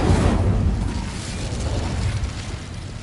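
A fiery burst from the Incendio fire spell in the video game Hogwarts Legacy erupts loudly with a deep, rumbling whoosh at the start, then trails off into a sustained roaring crackle for a few seconds.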